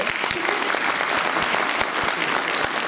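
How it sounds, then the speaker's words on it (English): Steady applause from a comic convention panel audience fills the space, many hands clapping continuously at an even level throughout. "Give Amy a round of applause."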